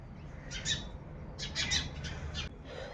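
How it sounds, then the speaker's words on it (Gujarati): Sparrows chirp in the morning near a temple courtyard with potted plants, giving short bright calls in two quick clusters against a quiet background. "તેમાં સરસ ચકલાઓ કલરવ કરી રહ્યા છે।"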